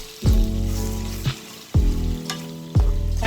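Egg frying with sliced bitter gourd, salt and pepper in a hot pan, loud sizzling bursts that flare up three times as ingredients are stirred, close and with no talk.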